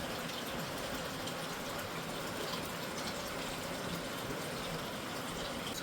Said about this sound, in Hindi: अभी मैं इस बर्तन से आधा इस बर्तन में निकाल रही हूँ।